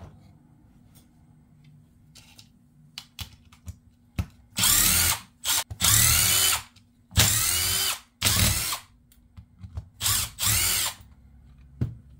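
A cordless impact driver loosening screws on an RC car rear differential, firing in several loud rattling bursts of about a second each, close up, with brief clicks and pauses between the bursts.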